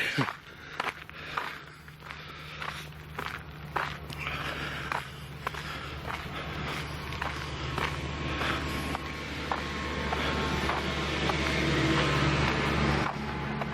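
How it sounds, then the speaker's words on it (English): Steady low rumble of traffic from a busy main road at Doniford, with scattered clicks and knocks nearby and faint voices at times. "That's the noise, the busy main road up there."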